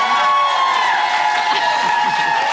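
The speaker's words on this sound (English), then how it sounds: "Give a round of applause to Lauren and Mark," A television studio audience claps and cheers in a dense, continuous wash of hands and voices, loud and close across the whole short stretch.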